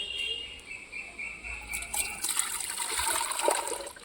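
Water is poured into a fish tank, starting as a light trickle and building into a gushing, splashing pour in the second half. The sound is fairly faint and there is no talk.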